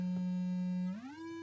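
A square-wave tone from a cheap XR2206 oscillator kit buzzes steadily at a low pitch, then glides smoothly upward to a higher held note, heard alone.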